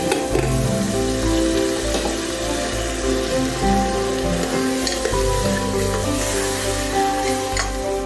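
Washed rice tipped into a pan of fried capsicum and stirred, giving a loud, constant sizzle under a continuous low hum, with scraping stir strokes throughout.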